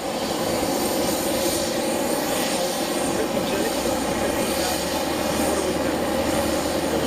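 Aircraft engines roar at Boeing Field airport in a loud, steady, continuous broadband rush that fills the whole stretch, with a brief spoken question barely cutting through.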